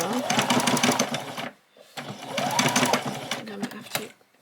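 A domestic sewing machine back stitches the bottom of a doll's dress sleeve in two rapid, rattling runs of stitching with a short pause between, close and loud, and someone talks over it.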